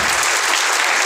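A congregation applauds loudly during a cake cutting at a New Year night Mass; close, dense, continuous clapping that stays at an even level throughout, with no talk.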